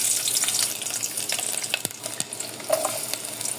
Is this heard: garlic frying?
yes